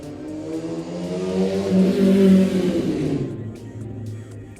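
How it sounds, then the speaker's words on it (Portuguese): A motorcycle passing by, its engine drone building to a loud close peak and then fading away, alone with no talk. "a moto passou"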